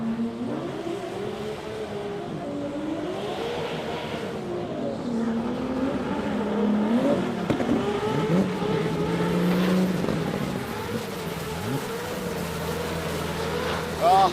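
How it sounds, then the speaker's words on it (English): Drag car with an RB twin cam engine doing a tyre burnout at a Sydney sports compact drag racing event, a loud sustained rev with wavering pitch and tyre screech, heard from the crowd with commentary over it. "That was a very stout burnout."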